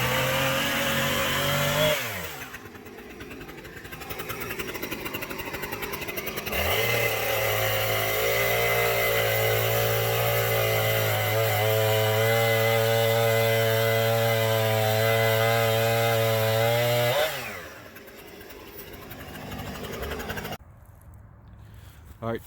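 Husqvarna 455 Rancher chainsaw cutting through lumber, a loud, sustained buzzing engine drone with pitch shifts as it bites into the wood, pausing briefly near the start and end.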